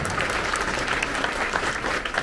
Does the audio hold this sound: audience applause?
yes